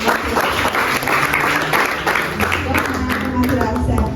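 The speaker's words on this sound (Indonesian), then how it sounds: "Oh, tepuk tangan dong." Audience applause at an Indonesian book talk and launch, a steady wash of clapping filling the room throughout, with some speech-like voices mixed into the crowd noise.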